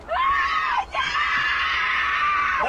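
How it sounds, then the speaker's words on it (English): A woman's loud, sustained blood-curdling screams, continuous and close, with a single brief break partway through, rising to a piercing high pitch over a commotion in the background. "Blood curdling screams."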